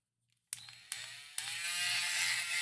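A battery-powered Dremel rotary tool carves a divot into a small wooden slat, switching on abruptly after brief silence with a high buzzing whine that rises in bursts and then holds steady, loud and close.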